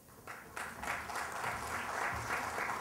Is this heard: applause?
yes